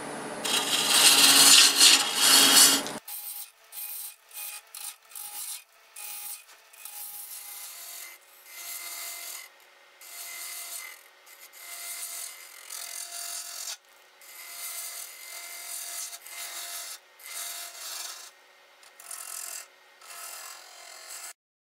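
A freshly sharpened swept-back gouge cuts a segmented twisted wood vase on a lathe running at about 1,000 RPM. A loud scraping cut opens the clip, then a string of shorter, lighter rubbing cuts follows with short pauses between them.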